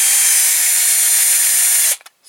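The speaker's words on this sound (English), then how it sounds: "I'm going to start with this smaller drill bit" A power drill fitted with a small bit bores into a Corgi Major Bedford articulated milk tanker toy, a steady high whine held close and loud for about two seconds before cutting off, with a few faint clicks after.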